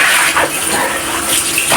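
Tap water running steadily from a faucet during hand-washing of laundry, a continuous splashing gush at close range with no speech.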